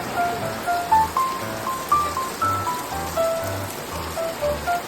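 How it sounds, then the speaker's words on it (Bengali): Steady heavy rain patters on a surface with a constant wash of drops, close and even, with faint rhythmic thumps underneath, in Sajek Valley. "অনেক ভালো বৃষ্টি করতেছে"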